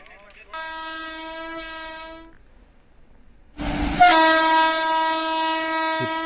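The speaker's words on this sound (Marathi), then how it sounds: "या लाईनवरून आता मनमाडकडे जाणारी गोदान एक्सप्रेस काही वेळापूर्वी संथ गतीनं सोडण्यात आली." Godan Express passenger train bound for Manmad pulling out slowly on newly laid track, its loud harmonic horn sounding twice, then a nearer, louder horn blast over rumbling wheels and engine.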